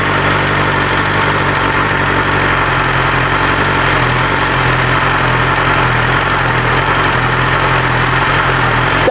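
BMW S 1000 R motorcycle fitted with an Akrapovic Evolution exhaust idling close by, a loud, steady, even rumble that holds for the whole stretch with no talking.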